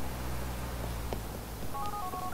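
A mobile phone being dialed in the video game Grand Theft Auto IV: a low hum and a couple of soft keypad blips, then a steady two-tone ringback tone starting near the end.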